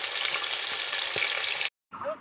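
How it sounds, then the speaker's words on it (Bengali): Chicken pieces frying in hot oil in a wok give a dense, steady sizzle close by for under two seconds, then cut off briefly before a softer sizzle returns. "মাংসগুলো কড়াই দিয়ে দিয়েছি, এবার ভাজবো।"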